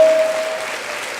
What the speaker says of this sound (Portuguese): Dê-lhe um aplauso forte.